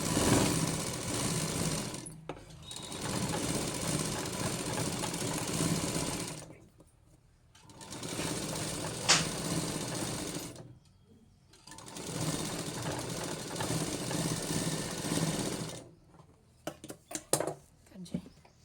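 A sewing machine runs in bursts, its fast whirring stitch rhythm stopping and starting while lining piping is sewn on a blouse, with brief pauses between runs and a few clicks at the end.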